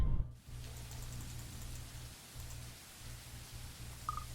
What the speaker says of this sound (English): The rain falls in fast, steady sheets, creating shallow puddles on the dirt path